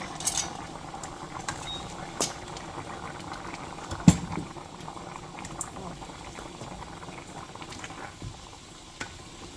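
A pot of red peas soup bubbles at a steady boil, with liquid churning and a few sharp clinks and knocks as the peas go in and are stirred.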